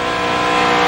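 A NASCAR Nextel Cup race car roars at full speed in the 2007 3M Performance 400 at Michigan, a loud, continuous high-pitched engine drone close by with no talk.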